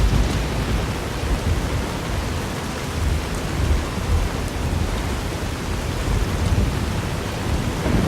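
Rain and a thunderstorm in the game Fallout New Vegas, a dense loud roar of rainfall with low rumbling thunder swelling and fading throughout, no voices.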